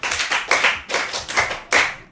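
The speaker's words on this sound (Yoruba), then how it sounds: "ẹ pàtẹ́wọ́ fún ọ̀gá wa Ajíbádé." An audience claps their hands at a gathering honouring a Ship FM radio station figure, in several short uneven bursts of dense applause, close and fairly loud, with no voices.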